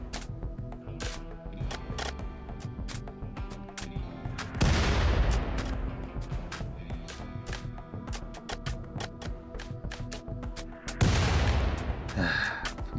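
Gunfire in the colony-building video game RimWorld, many sharp, quick shots scattered across the scene with two louder booming blasts that ring out and decay.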